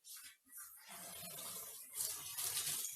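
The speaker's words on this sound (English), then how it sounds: "We are washing the lentils. You can see the water gentle, gentle." Tap water runs softly into a bowl while lentils are washed for a butternut squash and lentil soup, a faint, gentle splashing that swells slightly toward the end.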